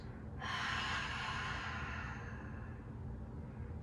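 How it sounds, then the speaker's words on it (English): A long, deep inhale followed by a forceful breathy exhale during yoga breathing practice, loud and close, with the breath trailing off slowly and nothing else heard. "Try to bring in as much air as you can, max capacity, and exhale, force all of it out."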